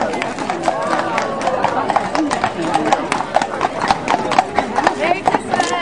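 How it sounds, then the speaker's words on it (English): A pair of imported horses pulling a carriage in a Christmas parade in Southern Pines, North Carolina, clip-clop in a brisk, steady rhythm close by, under an announcer's voice and faint crowd noise. "his pair of imported horses"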